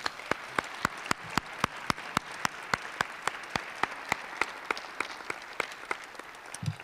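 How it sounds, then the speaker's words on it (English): Audience applause for presentation teams at an end-of-program event, heard as a sparse, steady run of individual claps, roughly three per second, over a faint room hush rather than a full ovation. "So let's one more round of applause for all of our teams tonight."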